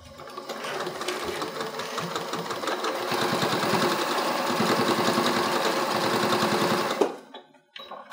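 A sewing machine stitches a bag in a fast, steady whir that runs for about seven seconds, then stops abruptly, leaving a few faint clicks.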